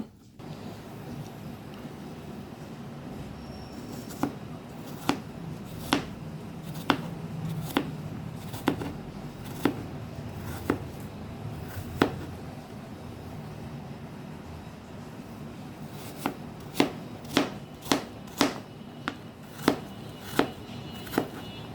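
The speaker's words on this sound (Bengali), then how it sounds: "এই অ্যাপেলটাকে টুকরো টুকরো করে নেব ছোট ছোট করে নেবো" A knife chopping peeled apple into small pieces on a board, sharp distinct taps in uneven bursts over a quiet steady background, close and moderately loud, no talking.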